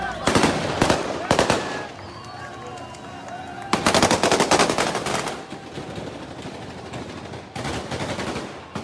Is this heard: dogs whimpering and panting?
no